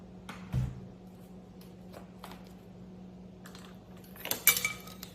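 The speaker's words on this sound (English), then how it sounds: "we're just gonna mix that up like that" Cinnamon being stirred into ingredients in a bowl, giving soft scraping and occasional clinks of a utensil against the dish, with a sharper clatter near the end over a low steady hum.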